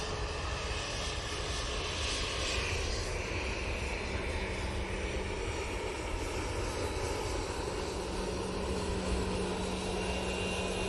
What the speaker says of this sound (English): There goes a little Loganair in front of us.